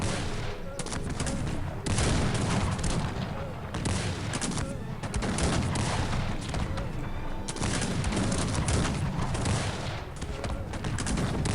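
Cannon fire in a Cossacks 3 tournament match, dense overlapping volleys of booming shots and crackling gunfire rolling continuously, with someone commentating over the battle.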